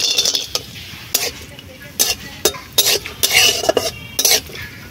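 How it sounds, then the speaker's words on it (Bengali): Cashews and raisins fry in hot ghee with a light sizzle, broken by repeated loud scrapes and clinks of a spoon stirring against the pan. "প্রথমে কাজু আর কিশমিশ ভেজে নেব এই ঘিতে"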